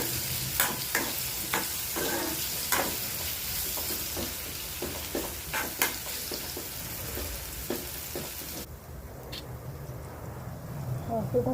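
Turmeric and red chili stirred in a frying pan, the spoon scraping in repeated sharp strokes over a steady sizzle, then a quieter stretch near the end.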